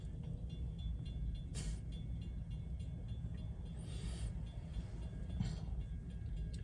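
An LIRR M3 electric multiple-unit train rolls into a Main Line station stop, a low steady rumble and hum with a few brief higher squeals and hisses, moderately distant and with no talk over it.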